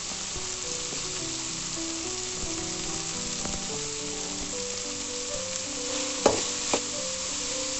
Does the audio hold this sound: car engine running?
no